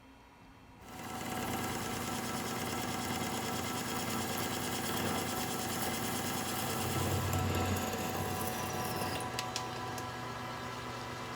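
A metal lathe running an interrupted face cut on a vise part starts up and settles into a steady, close mechanical whir with a faint tonal hum, a light chattering texture and a few small ticks near the end.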